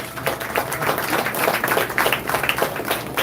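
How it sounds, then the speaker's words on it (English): Applause from an audience greeting the two judges at a youth pan solo competition in Sangre Grande, a steady, dense patter of many hands clapping continuously at moderate volume throughout. "Give them a round of applause"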